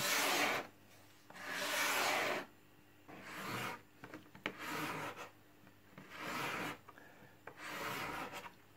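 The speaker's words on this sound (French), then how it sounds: "je vais passer un coup de grattoir pour m'assurer que j'ai bien enlevé tous les pores qui voulaient bien se relever" A scraper drawn across a solid wood cabinet door, six long rasping strokes separated by short pauses, close and distinct with no talk.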